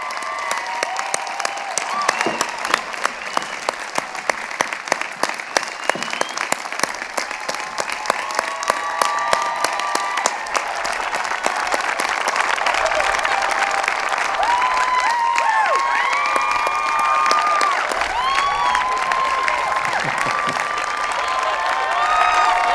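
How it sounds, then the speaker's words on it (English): Graduates and guests at a University of New Hampshire commencement applaud and cheer for the faculty, a long, steady roar of clapping from a large crowd, with whoops and whistles rising over it in the later part. "So let's give a big round of applause to the heart of the university, the UNH faculty."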